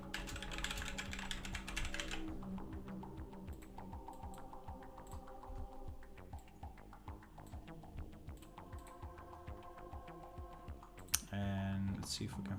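Rapid, continuous clicking of a computer keyboard as someone types at a desk, keystrokes close and even with a few brief pauses, plus a louder burst of clatter near the end.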